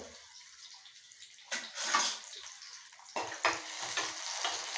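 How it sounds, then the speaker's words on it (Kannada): Onion frying in a pan for a greens sambar: fairly faint sizzle that swells in two bursts as it is stirred, then settles to a quieter crackle. "ಈರುಳ್ಳಿ ಸ್ವಲ್ಪ ಚೆನ್ನಾಗಿ ಫ್ರೈ ಆಗಬೇಕು"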